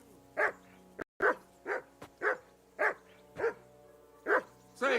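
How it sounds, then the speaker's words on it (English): A dog barking in the medieval video game Kingdom Come: Deliverance II, about nine loud, close barks in a fairly steady rhythm, with no voices over them. "Can you get your dog to shut its beak?"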